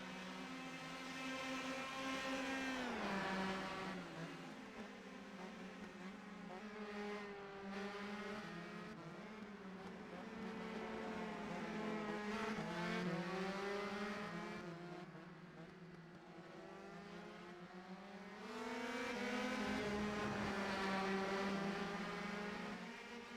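Race cars drive on a circuit during a Grand Prix race in Ohio, their high-revving engines rising and falling in pitch as they pass, swelling loud then fading repeatedly with no talk over them.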